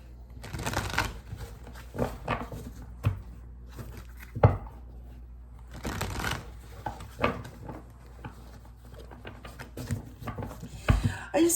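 Tarot cards being shuffled by hand in a quiet room, heard as uneven bursts of papery riffling and soft slaps spread over several seconds, close and moderately loud, with a voice briefly in the background.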